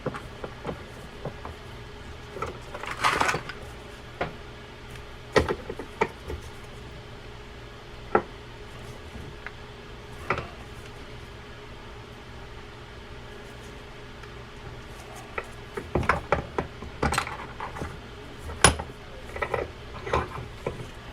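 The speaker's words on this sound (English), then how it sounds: "put it into a vise since I can't ruin it anymore, and see if I can break it off that way" A Penn Conflict 4000 fishing reel clamped hard in a vise is forced until its handle breaks off. Scattered metallic clicks, creaks and gear ratcheting come close up, with louder clustered bursts near the start and end.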